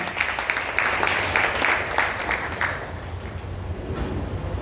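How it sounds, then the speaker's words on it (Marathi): A seated audience at a Marathi Language Day cultural program claps for a song, the applause dense and rhythmic at first, then thinning and fading out over a few seconds. "एकदा जोरदार टाळ्या तात्यांच्या या गाण्यासाठी."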